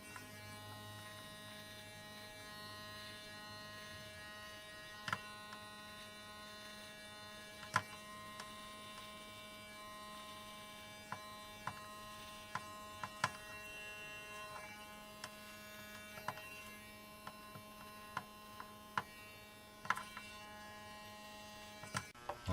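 Electric beard trimmer buzzing through facial hair, a quiet continuous hum with faint clicks and small bumps at intervals, no talk.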